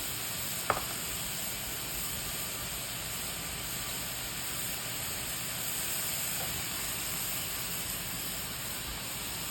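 Beef and yellow onions sizzle in a pan as one steady, fairly quiet hiss, with a single faint tap near the start.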